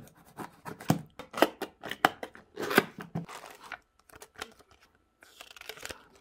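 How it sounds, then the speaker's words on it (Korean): Packaging for a car wireless charging mount is opened by hand, giving a run of close crinkling, tearing and rustling bursts of paper and plastic over several seconds, with pauses and softer handling near the end. "자, 언박싱 하겠습니다. 바로."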